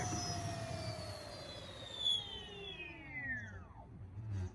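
An electric scooter with an 85 mph top speed slowing under regenerative braking: a whining motor tone glides steadily downward in pitch over several seconds, close and fairly loud, fading as it nears a stop.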